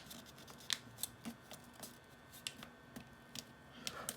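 A sheet of paper is creased along a line while folding an origami archer, heard as quiet, close crinkles and short crisp rustles scattered across a faint, hushed background.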